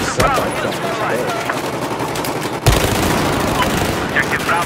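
Rapid gunfire from a Battlefield 4 match, with a sharp loud blast near the middle standing out over dense, continuous shooting and a voice talking throughout.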